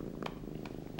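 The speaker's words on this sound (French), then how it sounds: "Il ronronne, ça veut dire qu'il est content." A contented kitten purring softly and steadily in a quiet home, a low continuous rumble with a few faint higher clicks over about a second, no voices.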